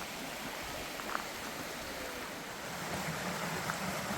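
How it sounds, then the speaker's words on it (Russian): Small mountain waterfalls in the Tatras, a steady broadband rush of falling water that is loud and continuous, with no voices. "Такие небольшие водопадики уже."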